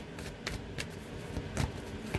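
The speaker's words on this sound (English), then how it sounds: "All right, let's get a good shuffle." Close, soft shuffling of a tarot deck, rustling and tapping in short bursts, no voices.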